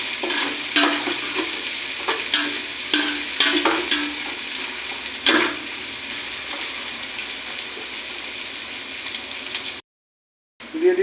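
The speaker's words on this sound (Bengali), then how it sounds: "ভালো করে একটু নাড়িয়ে চালিয়ে নেব।" Spices for pulao being stirred and fried in a pan, a steady sizzle with repeated scraping stir strokes, close and alone, ending with a brief cut to silence.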